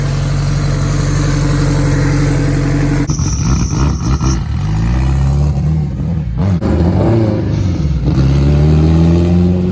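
800+ horsepower Acura Integra engine warming up at a roll racing event, loud close idle with harmonic drone, then repeated blips and rising revs with pitch sweeps that settle back down.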